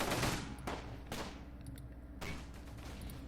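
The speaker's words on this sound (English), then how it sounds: "It's listed as a light AA gun in game." Light AA gun firing in the video game Close Combat, heard as several sharp, fairly faint reports spaced apart over a steady background rumble, with no talk.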